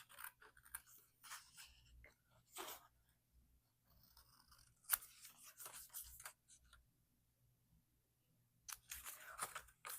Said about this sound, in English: And then come in with my smaller scissors here.